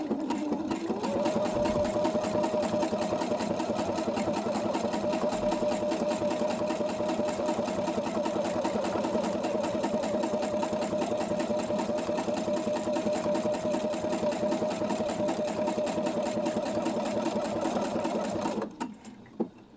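A sewing machine stitches a narrow 1.5 mm zigzag buttonhole, a fast even mechanical whir with steady needle clatter running nonstop up close, then stopping near the end.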